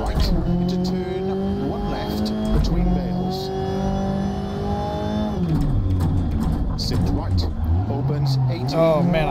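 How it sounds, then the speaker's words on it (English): A rally car in the video game Dirt Rally 2.0 locks up its tires on a gravel stage, with a droning engine whose pitch sags and climbs through braking and recovery, and a co-driver's voice calling notes over it. "Oh man, I locked up my tires there."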